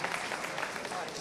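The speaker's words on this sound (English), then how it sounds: "that deserves a round of applause" Brief burst of audience applause at a community foundation event in the London Borough of Bexley, steady clapping from a crowd with murmured voices underneath, moderately close.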